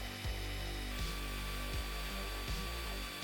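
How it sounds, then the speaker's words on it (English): A small power drill whines steadily while removing surface rust from the bent axles of a Matchbox Ford Thames Trader wreck truck, its pitch dipping in regular pulses roughly every three quarters of a second, close and alone. "put into my drill to remove the surface rust"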